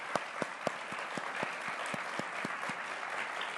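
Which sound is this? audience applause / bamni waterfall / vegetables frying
audience applause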